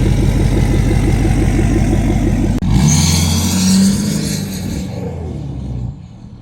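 A 2019 Ford F-350 Limited pickup with a piping kit underneath revs loudly through a 5-inch exhaust, a rumbling idle with rhythmic pulses breaking into a sharp throttle blip that swells and then settles back down.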